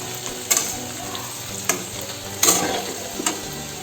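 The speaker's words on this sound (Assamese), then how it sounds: "ফাৰ্ষ্টতে মই আলুখিনি বহাই দিছোঁ।" Potatoes fry in a pan for an Assamese pigeon meat curry, giving a close, continuous sizzle punctuated by several sharp scrapes and clinks as they are stirred.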